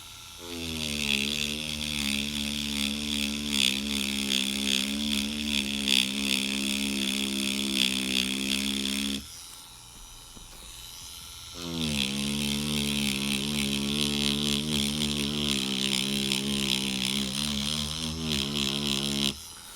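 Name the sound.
InkClaw Neon Blade tattoo machine running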